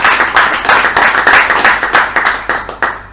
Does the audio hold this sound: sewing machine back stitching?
no